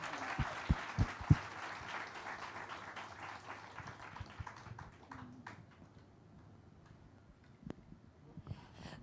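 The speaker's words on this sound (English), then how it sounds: "Another round of applause for our guests" Audience applause for panel guests at a documentary talk session, scattered claps that fade into quieter, sparse clapping with a few sharp isolated claps near the end.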